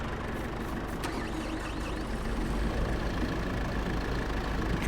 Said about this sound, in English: Let's move the other tractor.